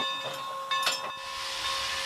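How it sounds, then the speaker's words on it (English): A Strasburg Railroad steam train running, with steady hiss and mechanical rumble plus a few sharp clanks, close and continuous throughout. "Some say the noise of the Strasburg Railroad actually brings them peace."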